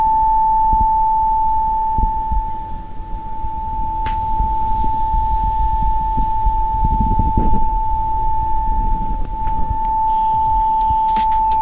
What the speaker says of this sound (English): I've got the tone generator set on 880 Hz here